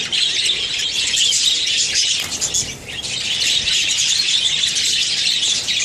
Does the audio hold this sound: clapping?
no